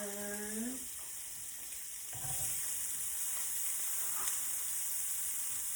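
Onion and pepper hit a hot pan and start frying for a Cajun seafood Alfredo, a steady hiss with a watery, tap-like character running throughout, fairly close and without talk.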